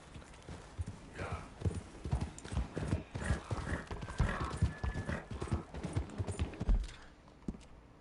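Horse hooves clip-clop in the video game Red Dead Redemption 2, a steady, close rhythm of hoofbeats with a faint whinny mixed in and no talk over it.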